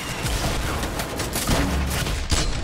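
A burst of grenade launcher fire in Fortnite sets off several loud, closely spaced blasts and impacts across a few seconds of a chaotic firefight.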